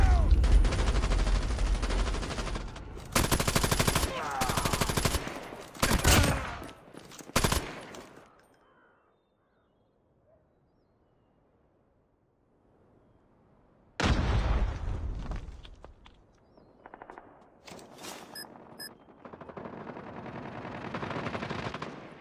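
Call of Duty gunfire: loud bursts of machine-gun and rifle fire crackle for about eight seconds, give way to near silence, then return as sharper scattered shots and bursts.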